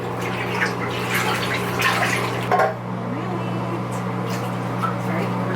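Thick coconut milk being poured into a filled milk bath gives a steady, close liquid rush and splash that tapers off halfway through, leaving a quieter watery backdrop over a constant low hum.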